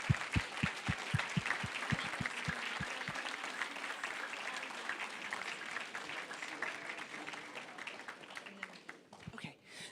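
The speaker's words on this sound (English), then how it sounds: "Let's give them as a team one more round of applause," Applause from a banquet audience honoring a girls' JV team, a dense, steady round of clapping that starts with a few sharp claps and fades near the end.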